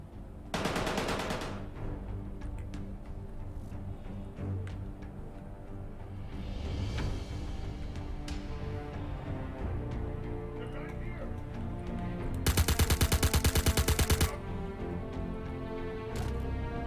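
Gunfire in the Star Citizen FPS bunker mission comes as short rapid automatic bursts near the start and a longer burst late on, with scattered shots in between and a person talking throughout.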